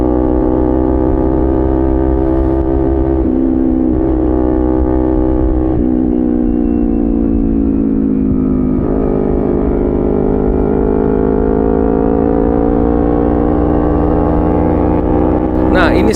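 A big sport motorcycle's engine drones steadily at night on the road, its pitch slowly climbing as the throttle opens and staying loud and close the whole time, with a sharper rise at the very end.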